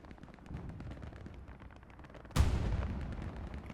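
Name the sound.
artillery explosions in the video game Hell Let Loose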